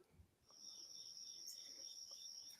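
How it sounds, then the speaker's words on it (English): Steady, continuous cricket chirping forms a quiet, high-pitched background drone throughout, with no talking over it. "Crickets."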